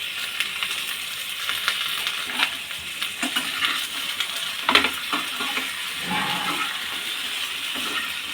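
Green chillies roast in a little oil over a medium flame for a tomato thecha, giving a continuous sizzle broken by scraping, stirring clatters of a spoon against the pan and a sharp knock near the middle.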